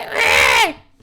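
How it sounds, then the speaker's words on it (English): A man lets out one loud, strained scream in the video game The Great Ace Attorney Chronicles 2, a harsh wailing cry lasting under a second that bends downward as it fades. "A man screaming in a most unflattering way."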